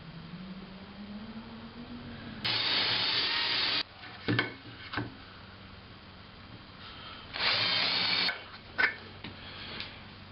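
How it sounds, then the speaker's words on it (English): Power drill boring holes in wooden table legs for a folding work table, two loud sustained bursts of drilling with quieter clicks and knocks in between, no talking. "Then you drill about halfway in from each side, and you should end up with a fairly straight hole"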